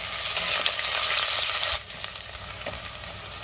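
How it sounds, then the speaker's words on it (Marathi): Onions sautéing in a pan for a soya pulao, giving a steady, loud close-up sizzle that drops abruptly to a softer frying crackle partway through, with occasional stirring clicks. "आता आपण यामध्ये कांदा घालूया आणि कांद्याला थोडा लाल रंग येईपर्यंत आपल्याला परतून घ्यायचे"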